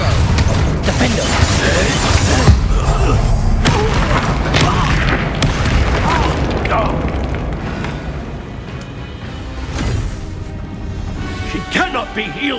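Confringo fire spell explosions from the Hogwarts Legacy video game boom loudly and continuously, layered with crashes and rumbling battle effects, with voices speaking over the din.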